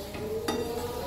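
A short stretch of stirring in a pan of grated coconut and melting sugar, with a soft sizzle and one quick scraping clink, no talk.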